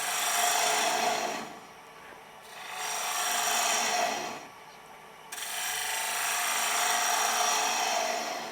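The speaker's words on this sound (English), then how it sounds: "make sure that this is trued up and start hollowing it out" Rasping cuts of a tool hollowing ash wood spinning on a small lathe, in several sustained passes separated by short pauses, close and moderately loud.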